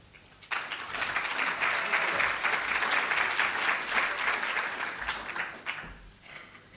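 Applause from a conference audience after the introduction of a closing address, a dense, steady clapping that starts sharply and holds strong for several seconds before tapering off at the end.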